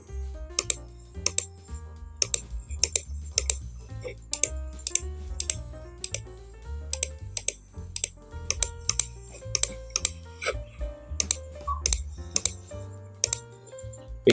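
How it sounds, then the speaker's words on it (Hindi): A computer mouse button clicks repeatedly in sharp, irregular bursts, close and crisp, with a faint background hum and no talk. "क्लिक की जो आवाज़ है वो माउस के अंदर से आती है।"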